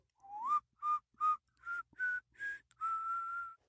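A man softly whistles a tune while wiping down his big bay horses with pawpaw leaves: seven clear, gentle notes in a short rising-and-falling phrase, the last one held, with no other sound around them.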